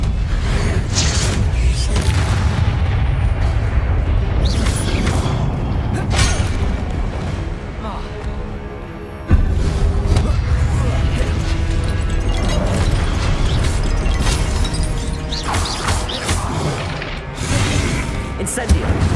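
Spell impacts from Hogwarts Legacy, with repeated booming bursts and crashes over dense, loud game noise that runs continuously, with one brief dip partway through.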